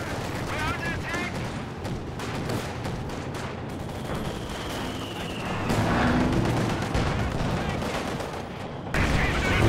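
Rapid gunfire from a 222 armored car in Company of Heroes 2, dense bursts of battle noise and explosions mixed with other combat sounds, loud and continuous, while a voice talks over it.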